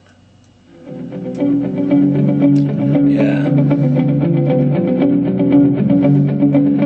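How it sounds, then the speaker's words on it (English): An electric guitar rings out through a Deluxe Reverb amp with delays, sustained chords swelling in after a quiet start, with echoing repeats smearing the notes together. "And this is pattern playing through that deluxe reverb."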